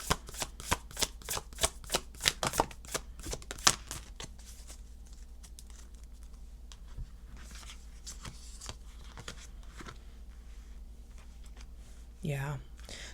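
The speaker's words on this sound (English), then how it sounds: "then we're gonna pull a little angel number card" Angel number oracle cards are shuffled in a quick run of crisp riffling snaps up close, then quieter sliding and handling sounds as cards are drawn, with a brief voice near the end.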